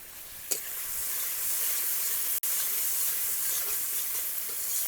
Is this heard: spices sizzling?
yes